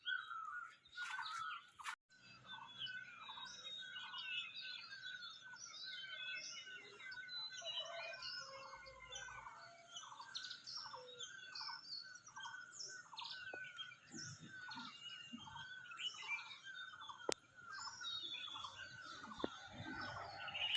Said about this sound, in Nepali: त्यो चराचुरुङ्गीको आवाज तपाईलाई सुनाउने छु